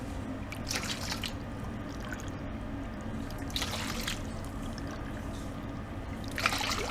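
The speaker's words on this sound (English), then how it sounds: "1, 2, and then 3 cups of just room cold water." Room-temperature cold water is poured for a bread dough yeast mixture, a soft continuous trickle and splash with a few louder gushes, close and steady.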